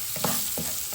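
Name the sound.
onions frying in a pan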